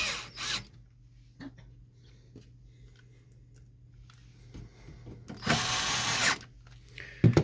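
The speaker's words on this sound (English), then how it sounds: "You can just use a screwdriver for this." Screwdriver fastening screws while a Samsung printer fuser unit is reinstalled, brief ratcheting and scraping bursts with small clicks and taps against a low hum, close and fairly quiet, no voices.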